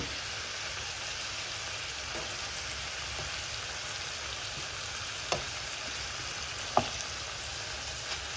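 Liver and onions fry Jamaican style in a pan with Scotch bonnet, giving a steady low sizzle throughout, broken by a few sharp clicks and taps from a utensil moving the liver.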